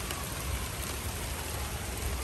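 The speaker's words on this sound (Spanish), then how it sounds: "Miren qué tormentón está." A heavy rainstorm pours down outdoors with dense, constant rain drumming on surfaces, loud and steady throughout.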